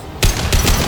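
Battle rifle fire in the video game Mass Effect Legendary Edition: two loud, close bursts of rapid shots in under a second, with no talk over them.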